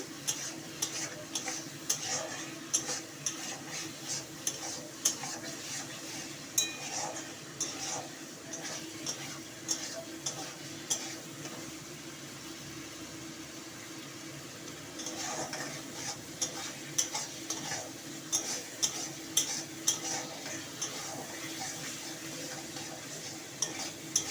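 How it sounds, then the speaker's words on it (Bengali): Chili powder being stirred into a Bengali katla fish rosa curry in a pan, with steady spoon scrapes and clicks over a soft continuous sizzle, close and moderately loud, no talking. "লঙ্কা গুঁড়োটা দিয়ে দিয়েছি আমি দিয়ে নাড়াচাড়া করছি"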